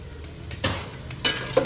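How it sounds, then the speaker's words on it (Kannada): Onions fry in a pan with a soft background sizzle, broken by two or three quick scraping stirs of a utensil, close and brief without speech. "ಇದು ಈರುಳ್ಳಿ ಫ್ರೈ ಆಗಲಿ,"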